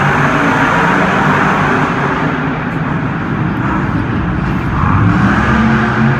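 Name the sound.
monster trucks racing at Monster Jam, Alamo Dome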